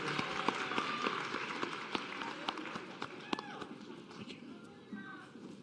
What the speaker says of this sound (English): Round of applause again for this group.